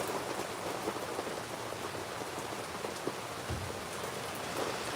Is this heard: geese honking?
no